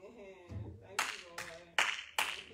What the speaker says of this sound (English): Give the Lord a hand clap for you.